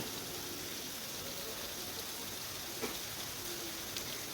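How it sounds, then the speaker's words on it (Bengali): Heavy rain falls outdoors, a steady, even hiss of water that stays faint and distant throughout, heard from indoors where hilsa fish is being fried. "আর একদিকে বাইরে খুব বৃষ্টি হচ্ছে"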